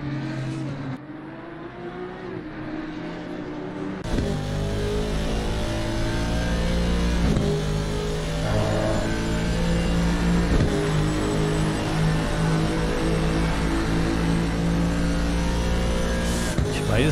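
A race car engine in a sim racing game at Barcelona drones loudly and steadily, revving and shifting through gears with a constant motor hum for the whole stretch.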